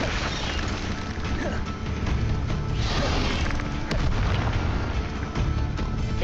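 Incendio fire spell bursting in the video game Hogwarts Legacy, a dense roaring blast with crashing, explosive impacts that keeps up loud and steady throughout, with a voice faintly underneath.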